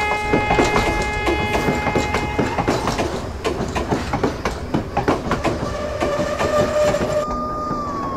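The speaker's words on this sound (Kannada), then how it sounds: "ಸರ್, ಪ್ಯಾಸೆಂಜರ್ ಟ್ರೈನ್ ಬಂದಾಯ್ತು." A passenger train pulls in on a railway line, with a loud rhythmic clickety-clack of wheels over rail joints, heavy rumbling carriages and a sustained tonal horn or brake whine running through the passage.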